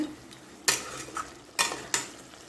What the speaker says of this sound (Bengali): নুন হলুদও দিয়ে দিয়েছি ভালোভাবে কষে নেব